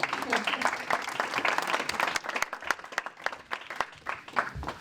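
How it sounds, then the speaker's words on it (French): Applause from an awards ceremony crowd, steady clapping that fills the whole stretch at moderate volume, with voices mixed faintly underneath. "On peut les applaudir et la photo, s'il vous plaît."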